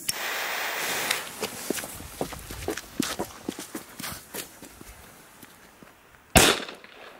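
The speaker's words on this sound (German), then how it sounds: "Sehr laut für einen A-Böller, richtig top." An old A-class firecracker (A-Böller): a string of sharp, crackling pops in quick irregular succession, followed by a single loud, heavy, dull bang near the end.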